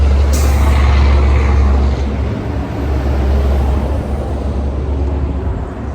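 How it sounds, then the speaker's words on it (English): Loud semi trucks roar past close by, a heavy continuous diesel rumble with a sharp air-brake hiss near the start, the traffic noise staying strong throughout. "Hold on, loud semis coming through."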